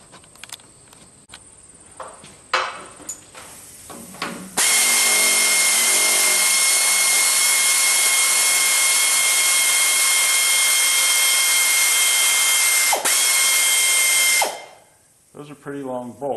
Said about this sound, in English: I can do those with the air ratchet, not the impact wrench, but the air ratchet at this point